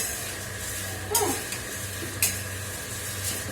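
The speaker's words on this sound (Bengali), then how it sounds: "আর মশলা মাঝে মাঝে চালাতে হবে, না হলে পুড়ে যাবে" Spices, including coriander seeds, sizzling and frying in a pan, with a spoon or spatula scraping and stirring every so often, a steady hiss underneath and a couple of sharp clinks.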